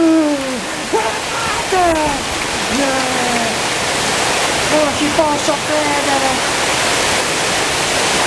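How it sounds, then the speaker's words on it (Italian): Hail pelts down during a winter storm in Quartu, Sardinia, making a dense, steady roaring hiss throughout while excited voices shout loudly over it. "Sta grandinando! Sta grandinando! Guardate!"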